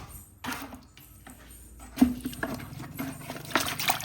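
A Haier air conditioner filter is washed by hand in a bucket of water, with irregular sloshing and splashing, a few sharper knocks and dripping, all fairly close.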